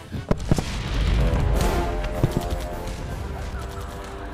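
Bombs explode in a war scene, with a dense run of sharp blasts and crackling bursts over a rumbling, sustained roar of battle, loud and close.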